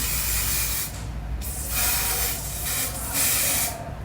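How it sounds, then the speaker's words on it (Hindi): Hairspray is misted lightly over curled hair while styling a bridal hairdo for a Nikah ceremony, several close, breathy hissing bursts in uneven pulses with no talking. "ये जब हो जाएंगे तो मैं इसके ऊपर हल्का हल्का स्प्रे करूँगी"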